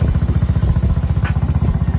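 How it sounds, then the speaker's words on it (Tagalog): Motorcycle engine running close by, a steady throbbing low rumble with regular pulsing firing beats, loud and continuous with no talk over it. "mag-motor si Apet kay di may maigo."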